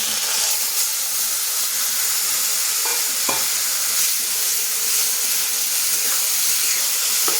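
Sprouted moong curry poured into a hot pan of scrambled egg hisses into a loud, continuous sizzle, with a few scraping stirs cutting through the steady frying noise.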